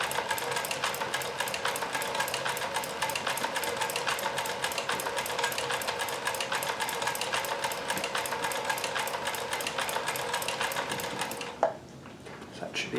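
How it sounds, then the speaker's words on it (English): Kenmore 158.1040 sewing machine running a long row of stitches with a Singer zigzag attachment, a steady rapid mechanical chatter held at even speed for about eleven seconds before stopping abruptly, close and alone. "So do a long row of stitches here so you can see."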